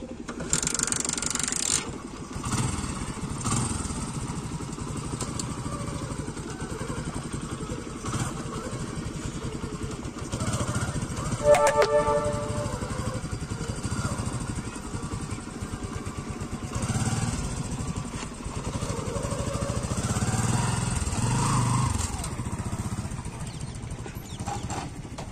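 A motorcycle running on desi country liquor as fuel, with a steady, slightly uneven engine drone that carries on for the whole stretch and is heard close up with no talking.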